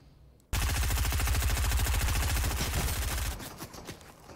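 A Fortnite gun fires a fast, steady string of sharp shots that starts abruptly, runs loud and even for about three seconds, then trails off into scattered quieter reports.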